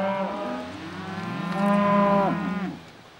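Cattle moo in a cosy farm barn setting, one long low bellowing call swelling louder in the middle and trailing off, with a second voice overlapping, close and clear with no talk.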